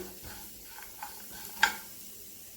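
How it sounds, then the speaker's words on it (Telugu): Fresh coconut, sesame and lentils are dry-roasted in a pan for a potato masala curry, with a soft sizzle and a few scraping stirs, one sharper clink near the middle. "వీటిని మాడిపోకుండా దూరగా ఫ్రై చేసుకోవాలి"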